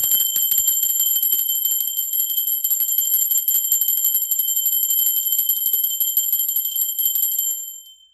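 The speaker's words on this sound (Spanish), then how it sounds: "Va campana." A bell rung during a tarot reading sounds one long, bright, shimmering ring that holds steady for several seconds, then fades quickly, with no voices over it.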